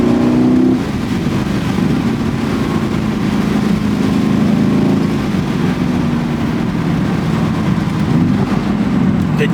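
Mercedes-AMG GT C roadster, a 2020 model, with a steady loud engine drone on the road and a brief throttle change near the start, heard from inside the car.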